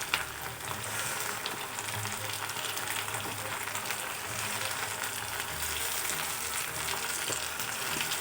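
Tomatoes frying with onions in a pan for prawn curry, a steady soft sizzle that runs evenly throughout with faint stirring scrapes, no talk.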